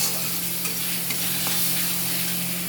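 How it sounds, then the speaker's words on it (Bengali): A spice paste of ground ginger, cumin, chili and a little onion fries in oil in a curry pan, making a dense, even sizzle and crackle close by throughout. "মশলাটাকে কষাবো"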